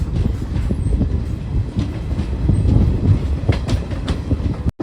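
Villupuram Intercity Express rolling through a sweeping curve, a loud continuous rumble of wheels on rails with rhythmic clacking from close by inside the train.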